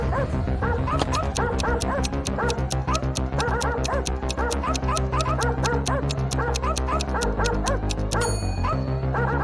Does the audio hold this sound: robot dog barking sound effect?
yes